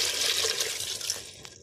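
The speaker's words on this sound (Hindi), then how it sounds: "अब इसके अंदर मैं ऐड करने लगी हूँ पानी।" Water pours steadily into a pot of white beans (safaid lobia), a broad, continuous splashing fill, close and fairly loud, tapering slightly toward the end with no talking.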